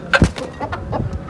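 A hen clucks in a few short, close bursts, followed by softer scattered clucks and faint background noise.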